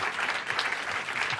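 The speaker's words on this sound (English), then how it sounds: "I just want to have a round of applause for Rangan and everything that he's done." An audience at a fireside chat gives a round of applause, steady dense clapping filling the room throughout at an even, moderately loud level with no voices over it.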